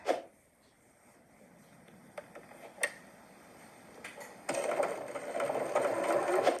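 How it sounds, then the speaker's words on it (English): A Janome sewing machine stitches around the top perimeter of a tote bag, first a few isolated clicks and taps, then a steady close whirring run of stitching for the last couple of seconds. "I've completed that step of sewing all the way around the top perimeter of the bag"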